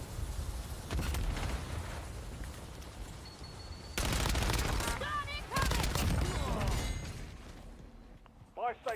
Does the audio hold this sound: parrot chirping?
no